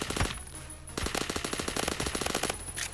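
Automatic rifle fire from the Roblox shooter Phantom Forces rattles in rapid, evenly spaced bursts, a short volley, a brief gap, then a longer continuous string of shots, crisp and up front with no talking.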